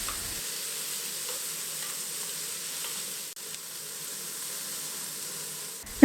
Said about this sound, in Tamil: இந்த காயை எண்ணெயிலேயே ஒரு 2-3 நிமிஷம் நல்லா வதக்கிக்கணும்.